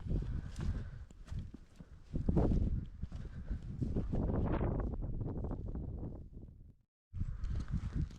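Strong wind buffets the microphone on an exposed Scottish hilltop near an ancient fort, a loud roaring rumble that gusts and swells, drops out briefly, then returns.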